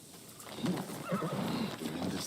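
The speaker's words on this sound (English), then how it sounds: "Horse!" A horse in the video game Ghost of Tsushima whinnies in a wavering, fairly close neigh lasting a couple of seconds, with faint hoof clopping beneath.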